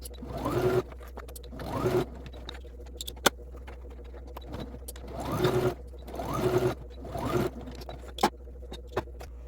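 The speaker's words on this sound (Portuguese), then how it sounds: "E a gente agora vai passar uma costura nessa beirinha aqui de cima." Sewing machine running in several short bursts of stitching along the top edge of a small fabric food bag, starting and ending with backstitching, with brief quiet pauses and light handling clicks between runs; no talking.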